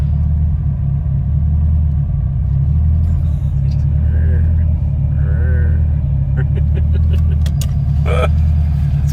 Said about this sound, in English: Yeah, it's pretty quiet. You hear the idle now.